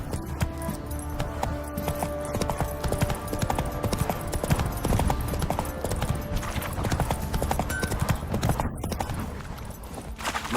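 Roach the horse trots in The Witcher 3, hooves clip-clopping in a quick, close rhythm that runs the full length over a busy game soundscape, with brief spoken lines.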